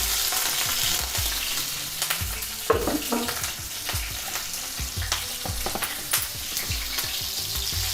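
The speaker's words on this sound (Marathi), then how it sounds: "आपल्याला आधी पहिले मिरची तळून घ्यायची आणि लसूण तळून घ्यायचं आहे" Cumin, mustard seeds, crushed garlic and green chili frying in hot oil for a radish bhaji, crackling loudly and steadily up close with rapid popping and spatula scrapes throughout. No voices.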